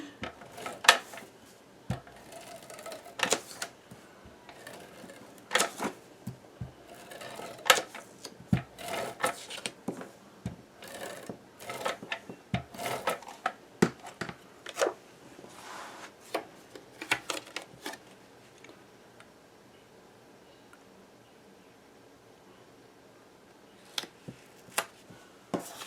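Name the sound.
ATG adhesive tape gun being used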